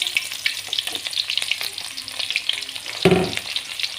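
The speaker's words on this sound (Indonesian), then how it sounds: "minyaknya kita buat numis bawang merahnya" Sliced shallots sizzle steadily in hot frying oil for a Betawi eggplant chili dish, with a continuous close crackle and a stir-like scrape near the end.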